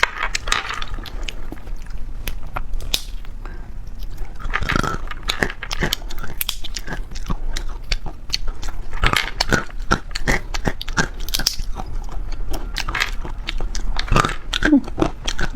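Loud, close-up eating of spicy food, with crunchy bites and wet chewing smacks that repeat steadily throughout, broken by sharp transient clicks and no talking.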